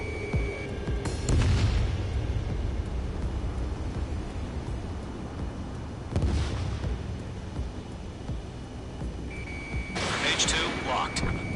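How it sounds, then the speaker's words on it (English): Missiles launching in the jet combat game Ace Combat 7, several sharp whooshing bursts over a steady engine drone, with brief warning tones. "Missile launch."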